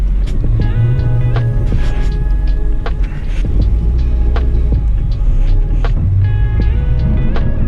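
A Nissan S14 cruising around the block near a high school, its engine a steady low throb and hum from inside the cabin, loud and continuous, with faint rattles and a short dip in level midway.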